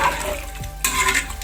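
A spoon stirs prawn biryani masala with added water in a pressure cooker pot, giving wet scraping and sloshing sounds, then a brighter scrape of metal on metal near the end, close and clear.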